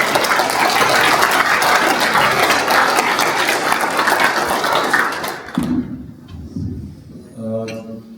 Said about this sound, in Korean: 참석하신 여러분들도 다 같이 박수 한번 치시죠